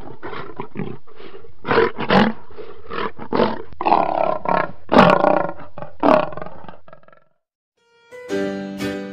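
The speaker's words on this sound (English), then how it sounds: "and now the lion says" A lion roars in a long series of loud, rough, pulsing bellows that rise and fall for about seven seconds, then a brief silence before a different bright, harmonic tone begins.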